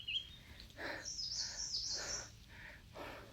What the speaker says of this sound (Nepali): चराहरूको आवाज सुनिराख्नु भएको छ नि